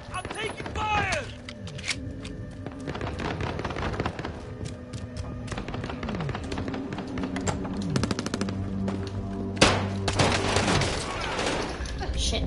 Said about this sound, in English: Enemy soldier incoming. I'm taking fire.